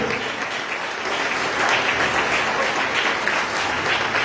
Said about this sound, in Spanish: ¿Cuánto aplaudan a Jesús?